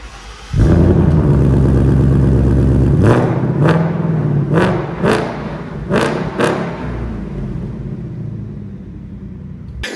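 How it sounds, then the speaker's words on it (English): A 2021 Ford Mustang Mach 1 with a quad-tip exhaust fires up loud and close, settling into a deep rumbling idle before several sharp, quick revs, then falls back to idle, with no voices. "that is a beautiful exhaust"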